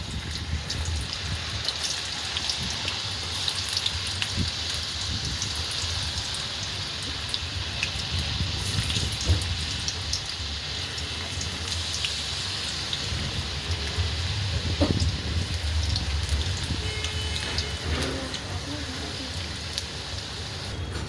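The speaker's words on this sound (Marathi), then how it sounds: "आता आपलं तेल तापलेलं आहे आता आपण एक एक करून सोडून घेऊया" Potato finger chips deep-fry in hot oil, giving a continuous, rain-like hiss of fine bubbling and crackling that holds steady for about twenty seconds, with faint background sounds underneath.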